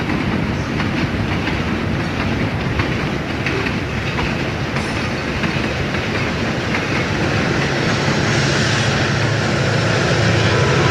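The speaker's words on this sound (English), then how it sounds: "look at the Pocono auto train going by Elmhurst Station" Erie Lackawanna Pocono auto train rolling past Elmhurst Station, a continuous loud rumble with rhythmic wheel clatter on the rails, steady throughout and growing slightly heavier toward the end.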